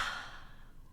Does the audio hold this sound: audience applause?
no